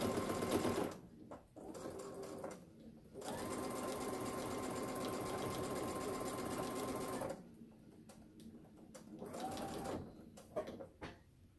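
A sewing machine stitches across a quilt seam in a jelly roll quilt, running in long steady bursts with brief pauses between runs, close and clear with no talk.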